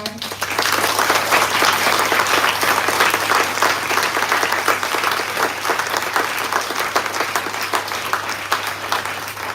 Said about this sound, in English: give a big applause to our